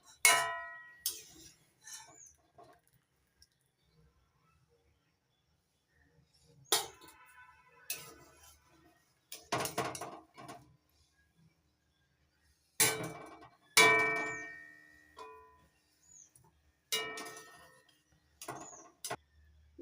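A slotted spoon clinks against a pot while boiled ash gourd pieces are lifted out for murabba, making sharp scattered metallic taps in bursts separated by quiet pauses.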